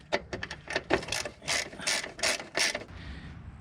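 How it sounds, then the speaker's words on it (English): A ratchet tightens a screw into the firewall of a 1997 Toyota Tacoma, close and crisp with a run of quick clicking strokes followed by several longer rasping ratchet pulls, alone without talk. "I'll tighten that screw into the firewall there"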